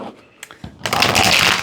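Tarot cards shuffled by hand, a few soft taps and slides at first, then a dense, continuous papery riffle that fills the last second, close to the microphone with no talking.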